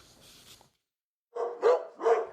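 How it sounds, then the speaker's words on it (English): Hounds from a Scottish fox hunting pack bark in a few loud, close calls, with a faint stretch of barking at the start, a pause, then two strong barks. "These hounds belong to one of Scotland's 10 remaining fox packs."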